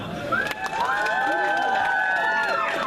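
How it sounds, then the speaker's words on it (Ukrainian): Outdoor village festival crowd cheering and applauding, with high sustained shouts and calls rising over steady clapping and a busy murmur of voices. "Оплески!"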